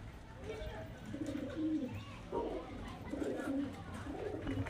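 Highflyer pigeons of the Kalshira and Madrasi breeds coo softly in a loft, with low repeated coos rising and falling against a steady background hum and faint voices.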